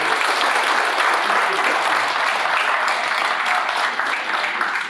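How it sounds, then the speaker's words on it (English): An audience at an air traffic controllers' pilot forum seminar applauds, a loud, sustained wash of clapping that runs steadily throughout with no speech over it. "A round of applause, a round of applause."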